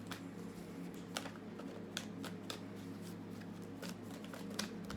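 Rapid riffling bursts of tarot cards being shuffled, repeated several times over a steady low hum, close and fairly quiet.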